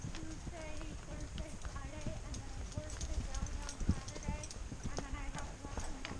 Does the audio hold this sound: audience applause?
no